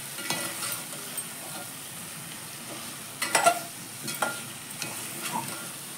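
Vegetables and chickpeas sautéing in hot oil for a traditional Maharashtrian shak bhaji, with a soft steady sizzle and a few louder scraping stirs of a spoon in the pan, with no voices.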